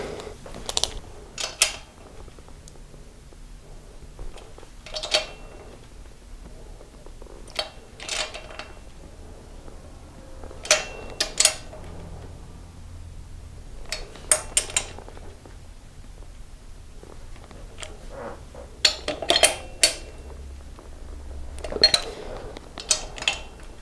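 Torque wrench clicking repeatedly while the top end of a 1983 BMW R80ST engine is torqued down in a workshop; sharp, close clicks come in small bursts and clusters across the clip over a low background hum.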